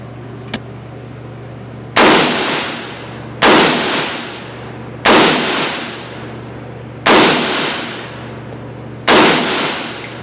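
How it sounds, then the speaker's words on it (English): FN SCAR 16 rifle firing five loud single shots at 25 yards on an outdoor range, spaced evenly about every one and a half seconds, each sharp crack trailing into a long decaying echo over a steady low hum. "fire 5 rounds off of the actual FN mag"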